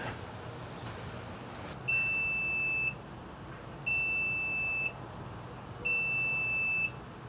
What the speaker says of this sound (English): the timer did just go off